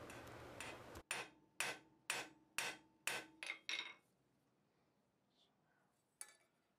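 Hammer blows setting a rivet to join two blacksmith tong halves at the forge, about eight sharp ringing strikes in a steady rhythm that speeds up slightly before stopping, then one last light tap.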